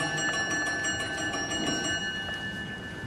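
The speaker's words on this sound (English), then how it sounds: "There will be another short bell" A short bell rings in a seminar hall, a steady sustained ringing tone lasting a few seconds with a soft room hum beneath it and no voices.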